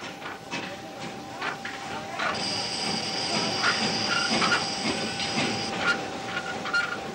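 A train rolls along an Indian metre gauge line near Phulera, giving a steady rumble with rhythmic clickety-clack of wheels and a sustained high metallic whine in the middle, moderately loud and close with no voices.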